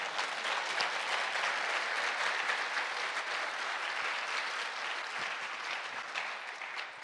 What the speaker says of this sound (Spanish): ¿Por qué no le da un fuerte aplauso al Señor por eso?